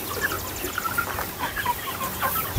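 Free-range chickens on a farm with mobile coops cluck and call in a steady, busy chorus at moderate distance, overlapping softly throughout.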